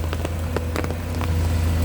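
Heavy rain pours down steadily throughout, a dense broadband hiss of drops hitting surfaces, with a low steady hum of excavator engines running underneath on a wet worksite.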